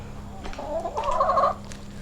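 A chicken clucks in a short run of close, fairly loud calls over a low steady hum, with no talking.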